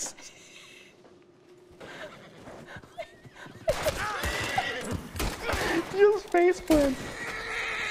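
Horse in the video game Red Dead neighing, several sharp whinnies with hoof clip-clops after a quieter start, near and loud over people talking.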